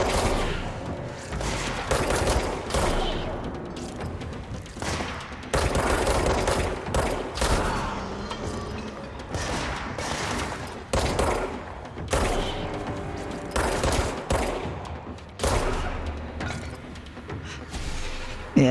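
Sustained gunfire from a gun in the video game Control, repeated loud bursts of rapid shots with brief pauses between volleys and heavy booming impacts, dense and close throughout.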